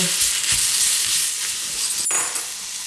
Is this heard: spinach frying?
yes